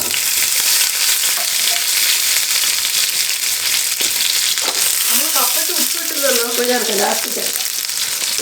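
Dried red chillies, shallots and curry leaves frying in hot oil, with loud constant crackling and spattering, stirring noises, and a voice briefly in the background.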